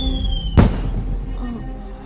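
A signal flare firework fired as a distress call, a sharp whooshing burst that bursts out suddenly after a rising whistle, then a rumbling fade under background music.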